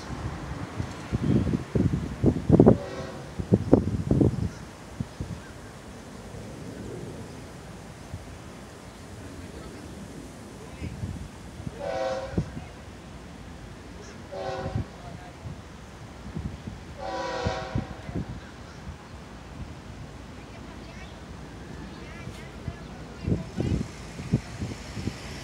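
FEC freight train 222-06, a double LNG consist, approaching with several long horn blasts that grow louder over a steady rail rumble, with a brief voice early on.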